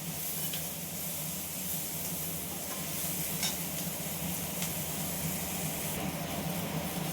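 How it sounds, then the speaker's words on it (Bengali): Chopped tomato frying with onion and garlic in a pan, a continuous close sizzle with faint stirring scrapes heard throughout. "এবার এটাকেও এই পেঁয়াজ রসুনের সাথে ভালো করে ভাজা ভাজা করে নেব।"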